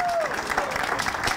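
A bowling-match cheering section claps and cheers steadily, a dense, lively applause throughout with faint voices mixed in.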